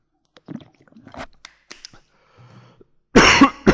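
A person coughs close to the microphone during a Spanish-language talk on theta-positive trading strategies, with a few soft throat sounds and small mouth noises first, then a loud, harsh burst of coughing at the end.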